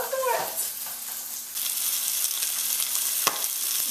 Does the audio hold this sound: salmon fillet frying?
yes